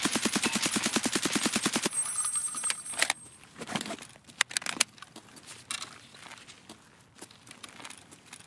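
Rapid automatic gunfire in Escape From Tarkov rattles out in a fast, loud burst, followed by scattered single shots, clicks and handling noises at lower volume.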